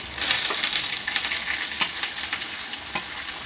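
Sliced bitter gourd with two green chilies frying in a pan, a steady crackling sizzle with sharper pops and faint stirring scrapes, close and alone without talk.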